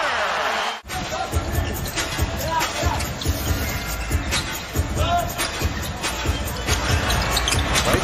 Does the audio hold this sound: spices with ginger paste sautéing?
no